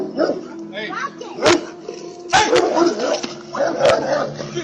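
An aggressive dog barks in sharp bursts spaced a couple of seconds apart at a home doorstep, with whimpering noises and people talking throughout.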